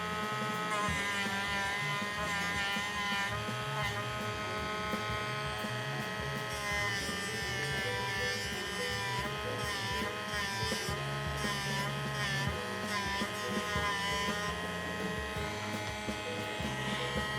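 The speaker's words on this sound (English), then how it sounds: "this is going to require drastic measures, or, in my case, Dremel measures" A Dremel rotary tool grinds hard resin on a model part, making a steady, high, whining buzz that holds throughout at fairly low volume, with small wavers in pitch as it bites.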